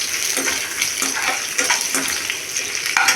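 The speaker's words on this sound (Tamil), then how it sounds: "இப்போ ரெண்டு பட்டை ரெண்டு கிராம்பு கொஞ்சம் சோம்பு கொஞ்சம் மிளகாய் ஒரு பத்து மிளகாய் போட்டு நல்லா பொரிய வச்சுக்கணும்" Cinnamon, cloves, fennel seeds and dried chillies fry in hot oil, a steady dense sizzle and crackle running throughout with faint stirring scrapes.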